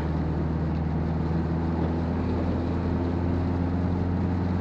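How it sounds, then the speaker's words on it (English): Mini Countryman S ALL4 with a 2.0-litre turbocharged engine driven at high revs in sport mode, heard from the cabin as a steady, droning engine hum with road noise, continuous and even, no talk over it. "You are hear a little bit more engine noise because it's on sport mode at high revs"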